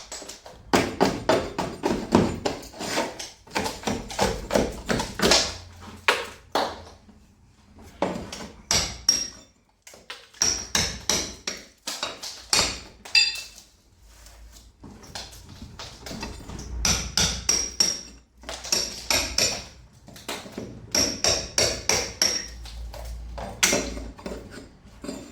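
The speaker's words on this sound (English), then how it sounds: "How come you're chiseling all that back?" Old plaster is chiseled back off a wall, with rapid metallic tapping and scraping strikes in dense bursts separated by short pauses, loud and close with no speech.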